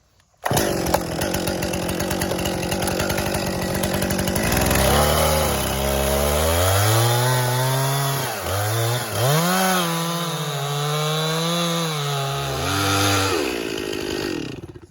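A chainsaw cuts into a standing tree trunk while making a felling notch, its engine roaring loud and close, then dropping into a lower, labored bogging tone as the chain bites into the wood.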